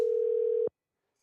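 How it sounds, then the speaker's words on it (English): A single steady telephone tone sounds clearly for about two-thirds of a second as a phone call is placed, then cuts off abruptly into silence. "Okay, Chase, give him a call. Calling him right now."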